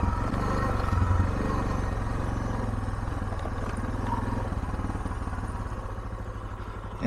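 Suzuki DR650 motorcycle on a test ride, its single-cylinder engine thumping rapidly and steadily up close, with mechanical clatter and wind roar throughout.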